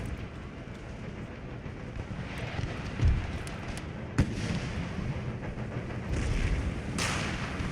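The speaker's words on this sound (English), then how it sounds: "There's some good cannon hits." Cannon fire in the video game Empire: Total War comes as a few heavy booming thuds over a rumbling, windy battlefield background, with one sharp blast standing out among duller distant hits.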